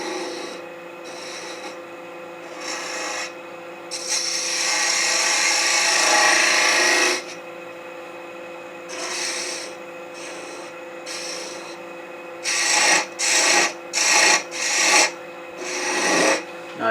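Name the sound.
shaping a wooden gnome ornament's nose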